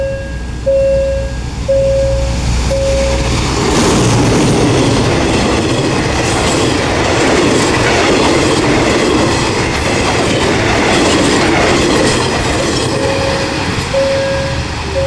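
An Alsthom diesel locomotive, number 4415, hauls ordinary train 257 from Thonburi to Nam Tok, passing loud and close with rumbling wheels and clatter. Short horn blasts sound at the start and again near the end.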